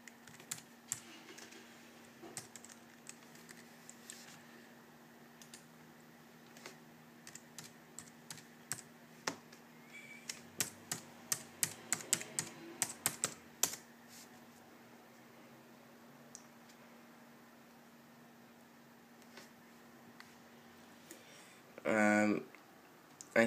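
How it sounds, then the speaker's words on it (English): Keys clatter on a computer keyboard as a security key is entered while installing Windows 7 on a Mac, quiet scattered taps building to a denser burst of typing midway, with a soft background hum and a brief louder rustle near the end. "I'm typing my security key."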